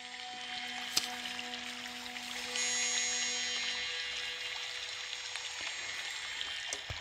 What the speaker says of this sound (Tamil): கவியருவியில் எப்போதும் நீர் ஆர்ப்பரித்து கொட்டும்